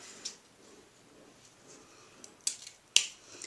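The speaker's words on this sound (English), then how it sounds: "I am going to cut off the long tail so it's about the same size" Scissors snip through the long tail of a wired ribbon for a bow, two or three sharp, close clicks spaced apart against a quiet room.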